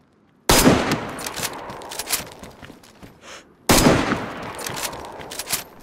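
Gunfire in the DayZ video game during a fight over an airfield: two loud, close bursts of rapid shots, each a sharp onset followed by scattered cracks and echoing reports, with a short quiet gap between them.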